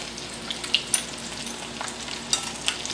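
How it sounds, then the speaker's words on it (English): Coated chicken nuggets fry in a pan, giving a close, continuous sizzle with scattered sharp crackles and pops and no talking. "keep letting them sizzle around"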